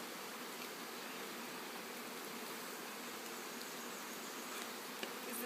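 Honey bees in a shipping package hum in a steady, dense, low buzz that holds constant throughout, close by with no voices.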